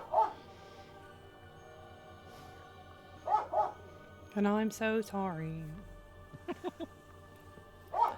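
A pet dog barks and whimpers in short, high yelping bursts that recur a few times, with a person talking nearby between them.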